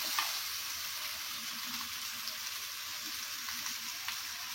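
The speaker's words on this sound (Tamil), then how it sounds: "இது நல்லா வதக்கிக்கலாம்." Ingredients for a mango and fish curry sauté in a pan with a steady, hissing sizzle throughout, close and fairly even, with soft scraping from stirring and no talk.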